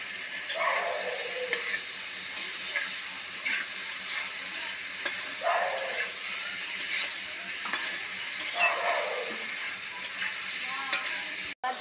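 Pointed gourd, prawns and potato stir-fried together on a clay stove, a constant close sizzle broken by three or four stirring scrapes spaced a few seconds apart, with no talk.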